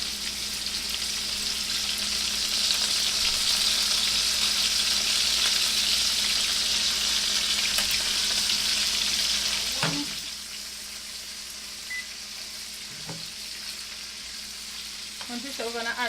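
Tomatoes sizzle and fry in a hot pot for Jamaican steamed fish with pumpkin, a steady loud crackling hiss that drops to a quieter simmer partway through, with a few clinks of stirring near the end.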